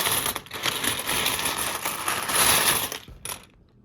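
Silver coins clink and jingle continuously as they are handled and dropped, with dense metallic rattles close by that stay loud and steady before ending in a final few clinks and quiet.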